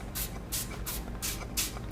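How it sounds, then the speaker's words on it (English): An oil mister spritzes a baking pan in a home kitchen, four or five short, close hissing bursts in an even rhythm, with no talking. "I'm gonna use my mister or spritzer or whatever it's called"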